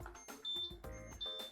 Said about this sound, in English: when you hear that beep, it means that it's starting to cook